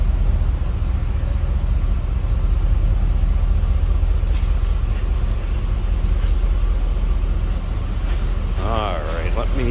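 A 1977 Pontiac Trans Am tribute's engine, with a mild exhaust and cam, idles steadily as a continuous low rumble throughout, and a voice speaks briefly near the end.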